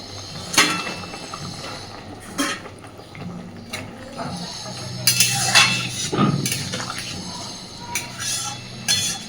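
Fried banana-flower (mocha) koftas are tipped into a simmering pot of curry, giving scattered clinks and clatters of a utensil against the metal pot, with soft thuds in between, fairly close and without talk.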